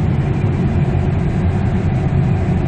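A 2002 Kia Carnival coasting with the accelerator released, its engine and road noise forming a steady, close, low rumble that neither rises nor falls.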